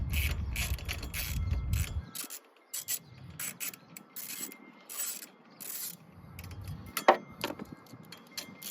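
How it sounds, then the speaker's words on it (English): Ratchet with a 10 mm socket undoing bolts on a 2009 Kawasaki Vulcan 900 during an oil change: repeated bursts of fast clicking in short spurts, close and fairly quiet, with a few sharper metallic clacks. "So you just take your 10, you undo them."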